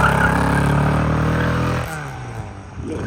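An MGB classic car engine at a car show pit, misfiring and running rough, revs loudly up close, then drops back to a lumpy idle.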